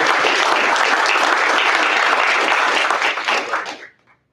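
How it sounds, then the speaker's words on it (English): Graduation ceremony audience giving a round of applause, loud dense clapping that holds steady and then tapers off into silence near the end. "Let's give Major Ray another round of applause"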